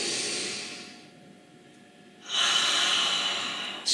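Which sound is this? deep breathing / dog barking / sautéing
deep breathing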